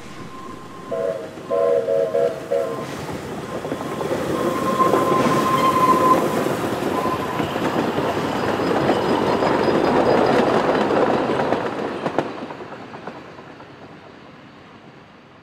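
A Puffing Billy Railway steam train rumbles past at night, its horn sounding several short blasts before the heavy rolling roar swells, peaks and then fades away.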